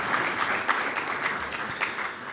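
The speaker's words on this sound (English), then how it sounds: "I would like to give them a round of applause for their contribution to the work" A crowd at an engineering chapter's anniversary event applauds, a dense run of clapping with a few sharper individual claps standing out, fairly close and steady.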